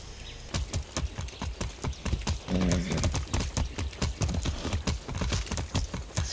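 Rhythmic hoofbeats of a galloping horse in the video game Far Cry 6, steady clip-clop thuds repeating quickly and close, with a brief breathy snort partway through.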